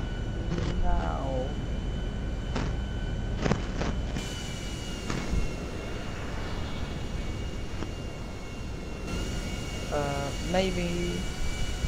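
A plane coming in to land at an airfield in GTA RP roleplay, its engine a steady, even drone throughout, with a voice talking over it now and then.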